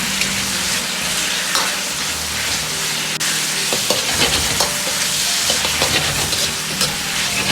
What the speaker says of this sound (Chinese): 接着倒入酱好的五花肉，翻炒均匀。